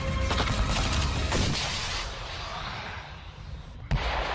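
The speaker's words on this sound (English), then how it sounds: "when the tank and the grenade launcher open up alongside you" Tank and grenade launcher fire during airborne troop training, heard as a dense, continuous barrage of deep booms and rumbling blasts, with one sharp crack near the end and no talking.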